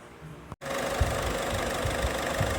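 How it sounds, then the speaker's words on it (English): A DV6 1.6 8v Euro 5 diesel engine fitted in a Euro 6 van runs steadily after a brief cut, a close, continuous clattering drone with faint rhythmic knocks. "Got a Euro 5 engine and a Euro 6 van. Doesn't sound bad actually, considering what it come out of."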